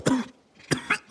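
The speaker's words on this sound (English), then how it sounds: "I've had this terrible cough for like the last month" Three sharp, close coughs ring out, the first followed by a brief pause before two more in quick succession.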